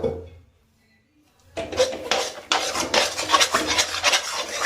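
A spoon scrapes and stirs a banana mixture roasting in ghee in a kadhai for banana barfi. After a brief near-silent start comes a run of close, repeated rasping strokes against the metal.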